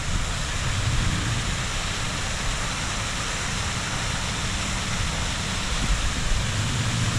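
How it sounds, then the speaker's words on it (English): Two small waterfalls at an outdoor stop pour in a steady, broadband rush of falling water, even and continuous throughout, with no voices over it. "And then you got a nice little two nice little waterfalls."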